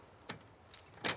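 Keys jangle in two or three brief metallic rattles, close and fairly clear against quiet ambience, in a scene from The Last of Us Part II.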